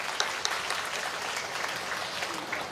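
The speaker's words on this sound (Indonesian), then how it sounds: "Untuk itu saya mohon tepuk tangannya untuk ibu-ibu semua di sini." Audience applause honouring the women at a political declaration event, a steady wash of clapping heard at a distance with a few sharper claps standing out early on.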